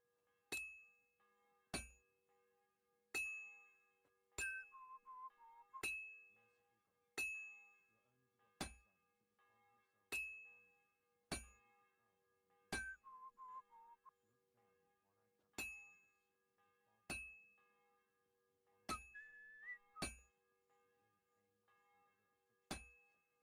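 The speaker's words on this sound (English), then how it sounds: "The bell's ringing for Hans the 5th time." A bell in the video game Kingdom Come: Deliverance 2 strikes about seventeen times at an even, unhurried pace, each clang sharp and ringing out before the next, alone with no voices.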